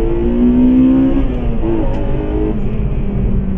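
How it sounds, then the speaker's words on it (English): A Honda Integra Type R engine revs hard, its pitch climbing and then jumping sharply into VTEC, a loud close high-revving howl that settles into a lower steady drone. "When it comes on VTEC, that incredible noise that you get from it is just fantastic."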